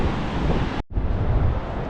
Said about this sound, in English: got to the beach just in time that I could walk down the steps without going in the water